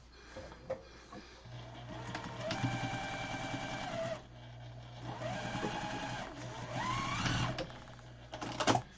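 A sewing machine re-sews a quilt seam on an outdoor star quilt, running in a steady whirring, rapid stitching hum across two long runs with a short break between, close by and with no speech.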